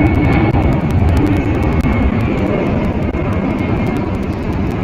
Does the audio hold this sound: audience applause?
no